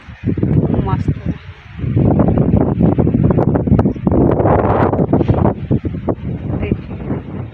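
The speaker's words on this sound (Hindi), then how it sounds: "कितना जोर से हवा चल रही है।" Strong wind gusts roar across a village rooftop, a steady low rumble of buffeting against the microphone that swells after the first couple of seconds, while someone talks over it.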